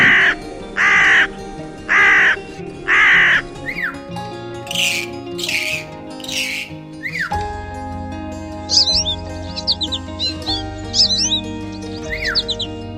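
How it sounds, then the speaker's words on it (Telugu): A crow caws loudly four times in a steady rhythm, followed by scattered harsher calls and chirpy bird sounds over a low hum. "తర్వాత కాకి"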